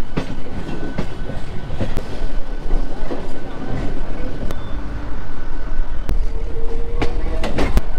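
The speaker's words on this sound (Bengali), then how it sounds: "ট্রেনটা কিন্তু আসছে সব তারকেশ্বর থেকে" A local train from Tarakeswar pulls into Howrah railway station with a loud, steady rumble. Sharp wheel clicks punctuate it at irregular intervals, and a faint squeal rises near the end.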